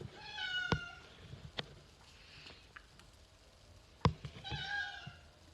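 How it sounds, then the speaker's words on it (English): A cat meowing indoors, two short, distinct meows spaced a few seconds apart, quiet, with faint sharp taps and clicks between them. "That's my cat."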